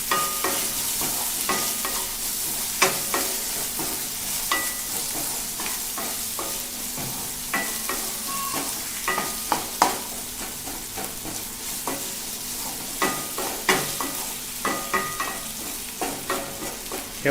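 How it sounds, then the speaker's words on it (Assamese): A spoon stirs a sizzling pan of frying mixture seasoned with salt and turmeric for shewali (night jasmine) flower bhaji, scraping and clattering in steady irregular strokes over a constant close fry hiss, with no talking. "এতিয়া এইখিনি ভালকৈ লৰাই দিম।"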